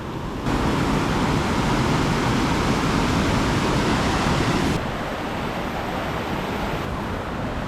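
A river in bear country rushes in a loud, steady broadband roar at close range, dropping slightly in level partway through, with no voices.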